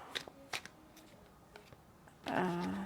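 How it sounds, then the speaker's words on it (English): Tarot cards from an indie deck being shuffled by hand, a few soft riffling bursts close by, followed by a louder rustle near the end. "I try to shuffle on camera, but my shuffling is just not that exciting"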